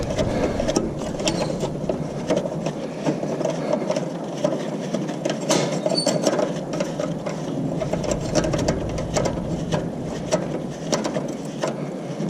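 A ratchet wrench turns a socket on farm machinery, giving a continuous busy clicking and rattling texture for several seconds, close and fairly loud over a low mechanical background.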